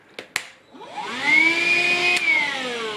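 A Black+Decker Dustbuster Flexi 10.8V lithium car vacuum clicks on and its motor whines up to a loud, steady high-pitched whir close by, after a couple of sharp button clicks.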